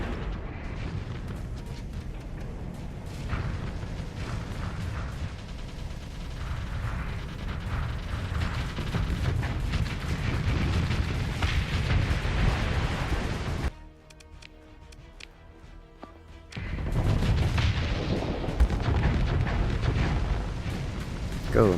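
Missile volleys firing in a Starsector space battle, a dense stream of launches and blasts that stays loud and rumbling, drops out briefly near the middle, then returns at full force.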